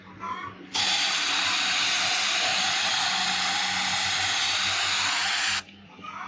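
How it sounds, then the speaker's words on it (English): Spray paint hisses from an aerosol can into a cup in one sustained, loud burst of about five seconds, close by, with brief quiet before and after. "So I ended up spraying paint into this cup here."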